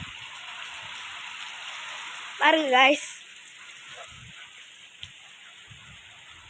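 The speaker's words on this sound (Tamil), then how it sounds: "மழை அதிகமாக வருது" Heavy rain falls steadily in a village, a constant close hiss throughout, with someone speaking briefly partway through.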